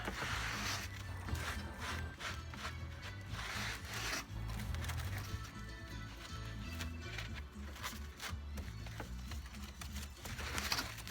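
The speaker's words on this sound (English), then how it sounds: "And rub it and rub it and rub it." Wet plaster cloth being rubbed into shape for a Christmas village model, a soft, close, repeated scrubbing and rubbing of damp fabric that comes in bursts.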